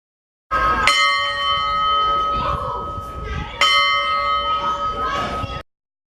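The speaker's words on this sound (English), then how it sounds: "and even ring the locomotive's bell" A locomotive's bell at the Southern Arizona Transportation Museum is struck twice, each loud ring sustaining a bright metallic tone that decays slowly, close by.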